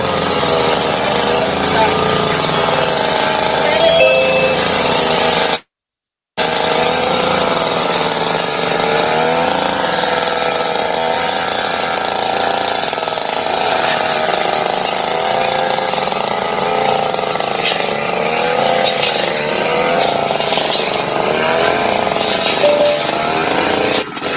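A hand tractor plough machine works the soil of a field, its small engine giving a loud, rattling, continuous clatter that runs almost unbroken, cutting out only for an instant early on.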